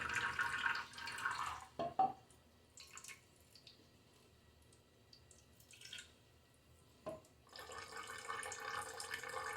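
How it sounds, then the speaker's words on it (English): Faint water sounds from a bathroom sink during shaving lather preparation, with a running faucet at the start and end and a few soft drips in the quieter middle. "I'm going to start a tiny drip in the sink here"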